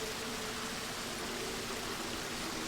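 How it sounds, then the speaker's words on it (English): Steady rushing water, a continuous broadband wash like a stream or small waterfall, heard alone at moderate level throughout with no voices. "Even the sound of this water rushing right now."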